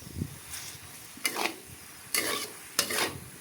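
Yellow noodles with soy sauce being stir-fried in a pan, with a few bursts of scraping and tossing over a quiet sizzle, each stir loud and close, and no talking.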